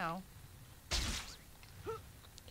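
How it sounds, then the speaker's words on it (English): An explosion in the video game Spider-Man 2 bursts loud and sudden midway, a brief blast with a short tail, among quieter game sounds and a voice. "That was a huge ass explosion."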